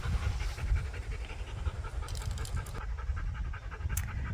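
A dog pants steadily and rapidly, close by, with quick rhythmic breaths continuing throughout and no other voices.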